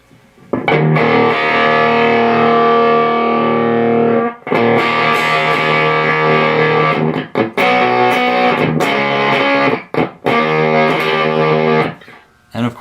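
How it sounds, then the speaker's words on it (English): A thick, fuzzy distorted electric guitar played in loud chord bursts separated by brief pauses, with sharp stops and restarts. "when you roll it back to extreme levels, the fuzz becomes broken sounding"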